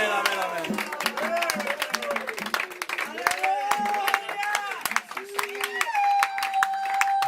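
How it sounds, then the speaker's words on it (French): A congregation applauds during a church service, rapid crowd clapping mixed with voices and cheers or singing, loud and close, filling the whole stretch without a break. "Applaudissez pour le Seigneur"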